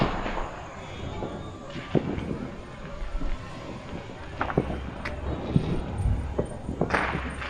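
Diwali firecrackers and fireworks going off at night in Punjab, a scattered series of sharp bangs and pops, mostly distant and fairly faint, over a steady crackling background.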